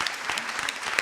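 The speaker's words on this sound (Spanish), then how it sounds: "estos aplausos" Audience applause at a historical novel week event in Cartagena: a brief burst of dense, steady clapping from a crowd, close and even throughout.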